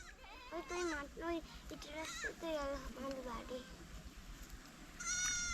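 A goat bleats several times in quick, wavering calls at middling distance, mixed with voices talking outdoors.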